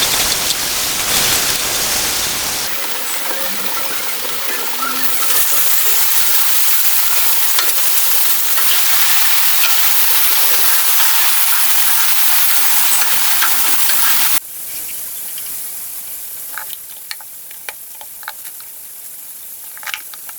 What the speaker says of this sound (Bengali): এই পাশে রান্নাটা এখন বসিয়ে দিয়েছি তো মশলাটা ভালো করে কষিয়ে দিচ্ছি